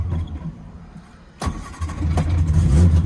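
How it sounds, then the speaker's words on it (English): A 1969 Triumph GT6+ engine cranks and catches with a sharp burst, then settles into a steady, loud low rumble close by, after a quieter idle-like stretch at the start. "let me take the car for a ride right now so you can hear how it sounds"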